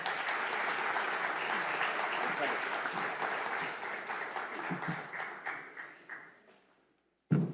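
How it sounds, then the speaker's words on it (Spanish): Audience applause at an education talk on video games welcoming the speaker to the stage, sustained dense clapping that thins into scattered individual claps and fades to silence. "Un aplauso para él, por favor"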